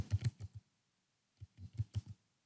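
Typing on a Windows laptop keyboard: two short bursts of quick, close key clicks separated by a pause, with no talking.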